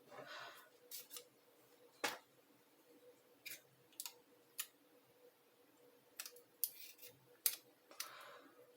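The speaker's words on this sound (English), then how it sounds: "Always want to be careful with the scissors." Quiet, scattered snips of scissors cutting paper, a dozen or so short crisp cuts at irregular intervals in a quiet room.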